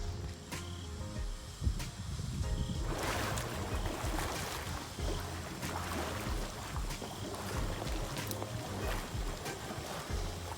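Air is blown through the bottom drain lines of an in-ground vinyl pool during closing, a bubbling, gurgling churn of water that starts after a few quiet seconds with faint knocks and continues steadily, moderately loud.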